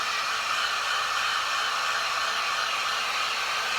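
A heat gun blows steadily while drying a repaired seam on a silicone baby doll, giving a constant, even whooshing hiss of airflow and motor with no breaks.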